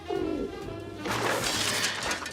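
Pigeon cooing close by, a couple of soft throaty coos over a brief low rumble, with a brighter noisy burst in the second half.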